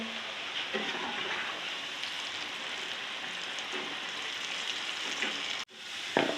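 Potato chips deep-frying in oil make a soft, even bubbling hiss that runs steadily, cuts out briefly near the end, then returns with a light clatter.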